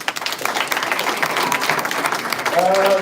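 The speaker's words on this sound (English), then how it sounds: "Just give them a round of applause for that." Audience applause at a live program, a dense patter of many hands clapping close and steady, with a voice starting to speak as it fades at the end.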